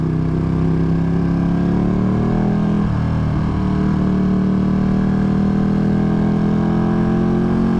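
A Ducati XDiavel V2 motorcycle engine pulls steadily in second gear, a loud, smooth, continuous drone with strong low harmonics and a slowly shifting pitch, heard up close with no talk.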